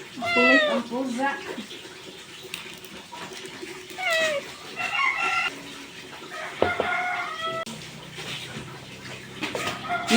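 Repeated meowing from a cat fills a rural Filipino kitchen where anchovy paksiw is being cooked, while chickens cluck and a rooster crows nearby and a person speaks at times.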